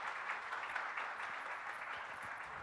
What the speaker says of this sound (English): I'd like the audience to give a big round of applause to our panelists.